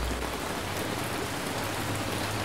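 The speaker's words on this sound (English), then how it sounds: "Rain started pouring down, not making their work easier." Rain pours down in the video game Ancient Cities, a steady, even hiss of falling water heard alone at moderate loudness.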